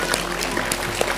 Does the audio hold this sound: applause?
yes